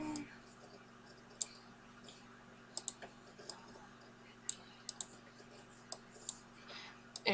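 Computer mouse clicking while editing in Photoshop, a dozen or so sharp, quiet clicks spaced irregularly over a low steady hum, close to the microphone.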